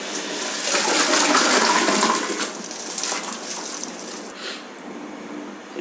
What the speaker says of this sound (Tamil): ஊற வச்ச பாஸ்மதி ரைஸை கொட்டிடலாம்.